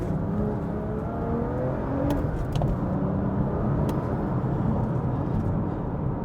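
A BMW M2 F87 with a manual gearbox revs hard under acceleration, heard from inside the cabin as a loud, steady engine drone with road roar and a few brief clicks throughout.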